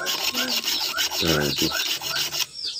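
A file sharpening the teeth of a rusty hand saw rasps in quick, even back-and-forth strokes, close and continuous, with one heavier scrape midway and a brief pause at the end.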